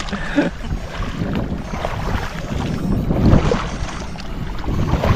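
A boat motor runs steadily on the water during a fishing trip, a continuous low rumble mixed with wind buffeting the microphone, with no talking.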